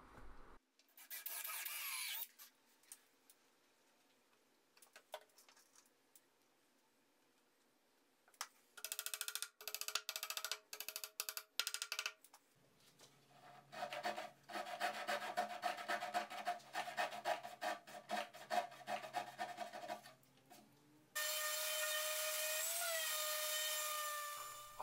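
Hand sanding and power sanding on a large wooden serving tray with walnut dowel joints, rough rasping strokes in bursts then a steady loud whine near the end, close by with no talk.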